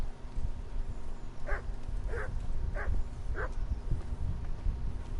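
Dogs in the medieval video game Kingdom Come: Deliverance give four evenly spaced single barks at moderate distance over a steady low ambient rumble.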